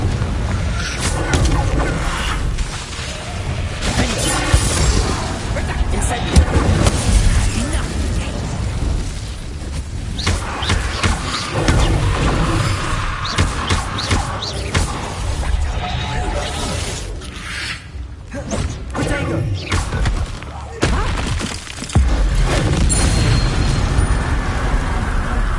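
Blasting curse explosions and spell bursts in a Harry Potter video game, loud booming blasts and crackling impacts repeating over a noisy battle, with voices heard at times.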